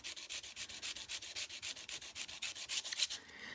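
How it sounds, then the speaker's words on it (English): Blade of a Samson block plane being sharpened on a stone, its edge riding under its own weight in a steady back-and-forth rasp of about fifteen quick, even strokes, close and fairly quiet, with no talking. "just barely use the weight of the blade itself to, you know, effectively let it sharpen itself"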